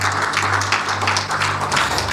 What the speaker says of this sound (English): we clap for Jesus